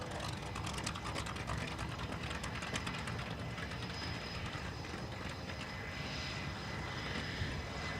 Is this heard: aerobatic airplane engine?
yes